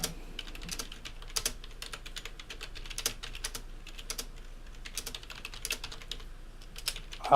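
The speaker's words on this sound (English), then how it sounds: "I hear keyboard clacks" Computer keyboard keys clacking in quick irregular bursts of typing, close and fairly soft against a quiet room background, with brief pauses between runs of keystrokes.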